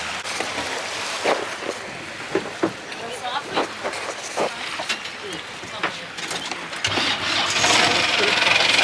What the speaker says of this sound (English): The boat is getting ready.